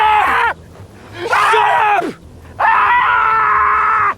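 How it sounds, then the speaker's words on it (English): A man's anguished screams from the dark comedy TV series Barry, season 3: three loud, strained yells, the first short, the second rising then breaking off, the third a long sustained cry. "There's this scream from Barry."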